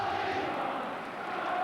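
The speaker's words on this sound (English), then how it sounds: "And the crowd sing the praises of John Barnes" Football crowd at a Liverpool match singing for John Barnes, a steady distant chant rolling through the stadium at low level without pauses.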